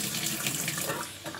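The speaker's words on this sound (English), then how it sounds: "if the water comes out fast, it means your pre-filter is okay." Water gushes steadily from the tap of a Seagull IV water filter unit in a continuous, fairly loud hiss and splash, with no pauses and nothing else heard.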